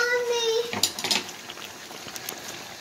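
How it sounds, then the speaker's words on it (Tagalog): Utensil scraping and clinking in a pan as vegetables and pork belly are stirred slowly, a few soft irregular knocks close by, with a voice and child speech in the background. "Dahan-dahan ang paghalo."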